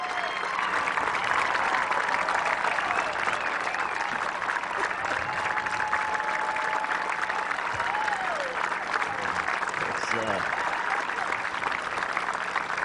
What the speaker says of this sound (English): You have no idea what that applause did for me.